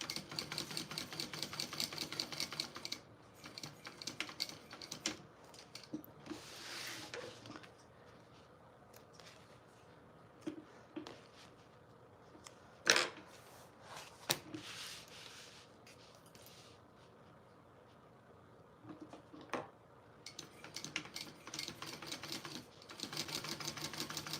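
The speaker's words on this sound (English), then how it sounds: "So I'm just sewing up to that line to start." A domestic sewing machine stitches fabric up to a marked line, with short bursts of whirring needle runs broken by pauses and handling clicks, fairly quiet, and no speech.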